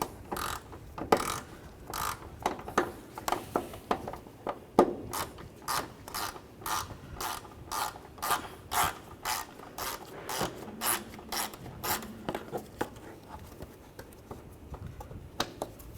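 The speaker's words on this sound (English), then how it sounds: "Use a T25 socket. Take that bolt out." A T25 Torx socket on a ratchet backs out a bolt during exhaust manifold work on a 2007-2013 Mini Cooper, giving a steady, rapid run of close mechanical ratchet clicks for the whole stretch, with no talking.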